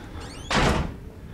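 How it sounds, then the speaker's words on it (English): A door slamming shut in the horror video game Outlast: one heavy, close thud with a brief rattling decay, preceded by a rising eerie tone. "I think my person will learn how to shut doors a little quieter"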